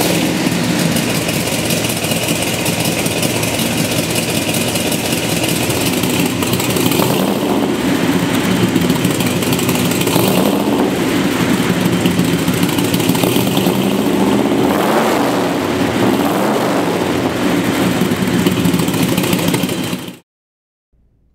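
A 1972 Chevy Corvette Motion Moray GT runs with long-tube Hooker headers feeding Motion side-pipe exhausts, a loud, close, steady rumbling idle with occasional swells of revving, ending abruptly in silence near the end.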